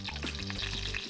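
Nigella seeds temper in hot oil left over from frying eggplant, giving a short, steady sizzle with a low hum underneath.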